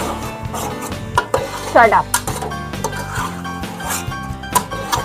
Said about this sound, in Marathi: हे असं हळद मिक्स करून घ्यायची आहे